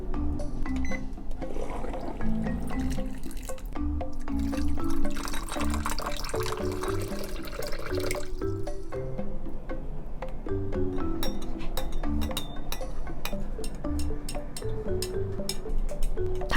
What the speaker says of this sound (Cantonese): 首先準備一碗暖水，放兩粒湯粒落去，攪勻就可以啦